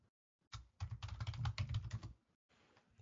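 Rapid keystrokes on a computer keyboard while a host name is entered in a Linux terminal, a close, busy burst of clicks lasting over a second, then a brief pause and a few quieter taps.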